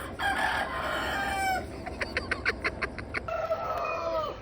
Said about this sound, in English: Now you've seen Sam, the rooster, calling out to Rebecca.